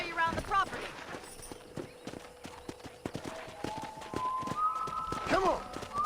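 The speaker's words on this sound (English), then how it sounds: "let's see if you can still ride a horse" Horse hooves clip-clop in a steady rhythm during a ride in the Red Dead Redemption video game, close and clear, with a whinny and game character voices talking over them.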